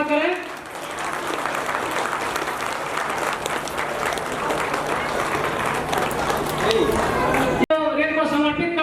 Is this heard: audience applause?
yes